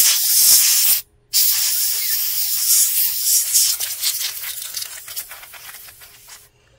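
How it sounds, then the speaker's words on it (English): Compressed air from a can blasting dust out of an opened Lenovo Yoga C740 laptop: a loud, steady spray hiss with a brief pause near the start, then continuing in uneven bursts that gradually fade. "then you can open the case up and then just use an air can and blow"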